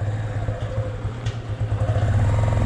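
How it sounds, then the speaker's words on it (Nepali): A motorcycle engine idles and putters close by as it slowly approaches across a bridge, a low steady rumble with light rattling that grows slightly louder toward the end. "उताबाट पुरा बाइक आउँदैछ बिस्तारै"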